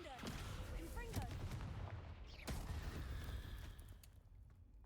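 Blasting fire-spell bursts in Hogwarts Legacy, a few loud booming cracks over dense game noise, with a voice speaking during the clip.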